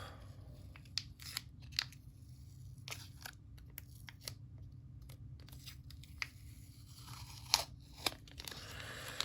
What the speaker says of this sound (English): let me go ahead and take this tape off since we don't need it anymore